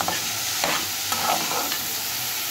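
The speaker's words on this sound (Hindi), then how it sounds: "और इसको अच्छी तरह से हम लोगों ने मिक्स करना है।" Salted pumpkin sabzi is stirred and mixed in a pan, with a spatula scraping a few times over a constant soft sizzle.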